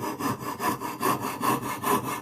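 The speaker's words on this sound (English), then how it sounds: "just below the bottom, I'm sawing" A hand saw cuts wood for a finger joint in steady back-and-forth strokes, about five rasping pulls and pushes at an even rhythm, close by and fairly quiet, with no talking.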